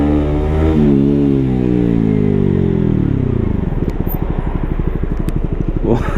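Motorcycle engine in city traffic, a loud, close steady drone that rises then falls in pitch before settling into a rapid, throbbing low putter.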